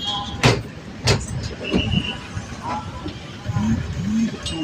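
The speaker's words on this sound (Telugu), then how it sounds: "వెళ్తట్టుంది బస్సు" A bus moves past near the Tirumala Tirupati temple entrance, with a rising engine rumble, clattering knocks and clicks, and brief voices nearby.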